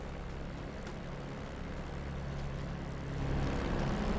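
A TF-51 Mustang's piston aircraft engine idling while it warms up before a first flight, a loud, steady, throbbing drone that swells slightly toward the end.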